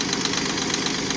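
A Yanmar tractor engine runs at a steady idle with the hood open, giving a continuous even mechanical drone with a faint knocking pulse and no talk over it.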